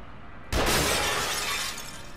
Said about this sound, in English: Shot out the glass.